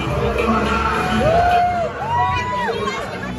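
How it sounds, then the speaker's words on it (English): Crowd at a small-town pro wrestling event cheering for wrestler Tasty Tom: steady hubbub with whoops and shouts rising above it, plus a couple of sliding whistle-like calls. "The crowd loving Tasty here, baby."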